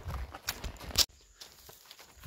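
Horse hooves clopping on rough ground outdoors, several uneven steps up close that stop abruptly, followed by quieter rustling.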